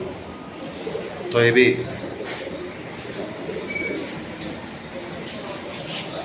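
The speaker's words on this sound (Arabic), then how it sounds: "يمام مع حمام" Pigeons and doves coo at a pigeon loft display, a soft, brief cooing burst heard under nearby conversation.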